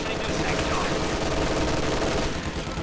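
Machine gun fire in Company of Heroes 2, a dense continuous rattle of automatic weapons with battle noise filling the whole stretch.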